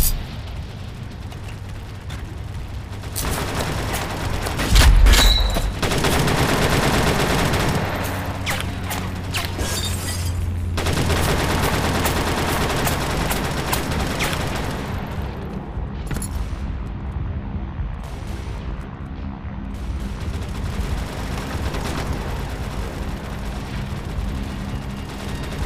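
Gunfire and explosions in a combat video game, a dense rumbling barrage with heavy booms and scattered shots that stays loud throughout.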